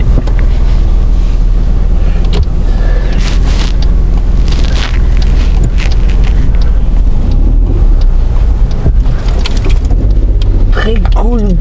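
A Hyundai i10 with a three-cylinder engine drives along, its low engine drone steady and loud throughout, mixed with road and wind noise inside the cabin, while people talk over it.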